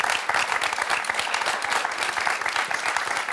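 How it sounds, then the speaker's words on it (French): Applause from a game-show studio audience is a steady, dense patter of many hands clapping close by, sustained without pause. "Et on va applaudir Jacques pour ce très beau score."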